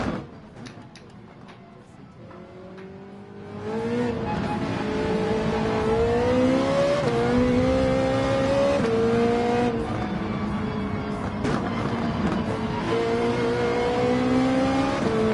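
Race car engines in Gran Turismo 7 rev and climb through gears, with rising and falling whines from the player's car and opponents nearby, loud and continuous after a quieter start.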